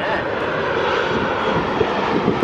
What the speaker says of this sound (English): here's our first look at a plane